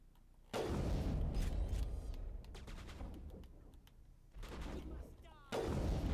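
Gunfire in the video game Mass Effect 1, loud rapid bursts of shots with heavy booming blasts, pausing briefly before resuming in close, dense volleys.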